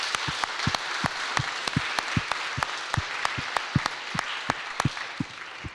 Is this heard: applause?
yes